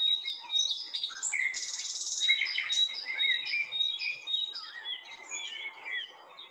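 Several forest birds calling at once, overlapping high chirps, trills and whistled notes from near and farther off, steady throughout with no voices.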